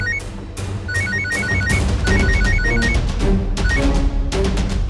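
A telephone rings in repeated electronic trills, loud and steady, over a low background hum with no talking.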